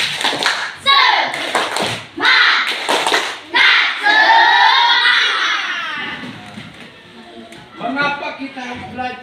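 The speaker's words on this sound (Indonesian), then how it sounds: "Tepuk semangat." A school class does a rhythmic spirit clap: bursts of clapping in a set pattern alternate with children chanting and shouting together, loud and close, with pauses between the clap groups.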